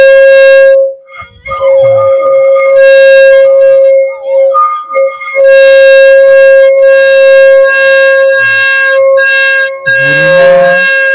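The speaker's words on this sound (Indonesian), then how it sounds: "Ini bunyi alami dari mangkok yang dikeluarkan ya." An antique Ming dynasty bowl gives off a loud, sustained siren-like ringing tone, steady and piercing with slight wavering, near and continuous apart from a few brief dips; no speech is heard.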